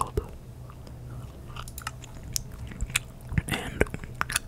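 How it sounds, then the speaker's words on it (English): Gum being chewed close up, with wet smacking and crunchy bites coming in irregular bursts over a faint low hum. "I'm going to be chewing some gum"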